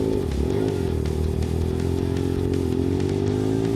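Steady motorcycle engine drone and wind roar on a cold, damp night ride, a constant loud hum with a sustained low tone and no break throughout.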